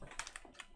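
Computer keyboard being tapped, a quick run of soft clicking keystrokes, very faint and close.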